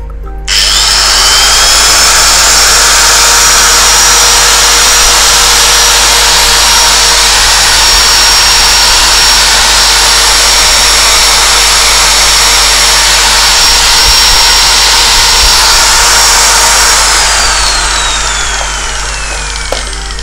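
A Bosch three-function 220V electric drill whines steadily at high speed, loud and close, running continuously for the whole stretch with a slight dip near the end.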